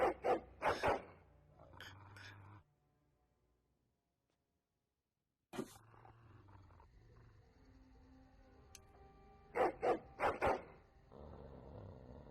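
A dog in the Dragon Age: Origins video game gives several loud barks in two bursts, at the start and near the end, separated by a silent gap and quieter game ambience.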